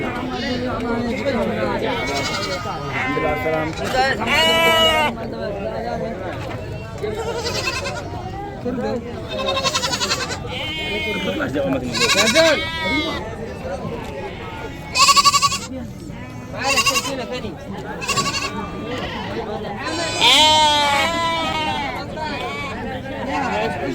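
Goats at a livestock market on the road from Najran to Jizan near the Yemen border bleat loudly and repeatedly, many animals calling in overlapping bursts over a background of crowd chatter and talking.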